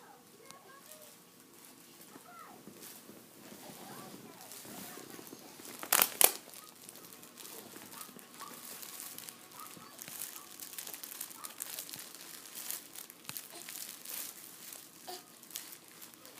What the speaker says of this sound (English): She's playing with her crinkle book.